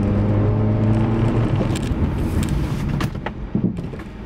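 A used car's cabin during a brake test, with a steady engine and road rumble that eases off as the car slows, followed by a couple of soft knocks near the end.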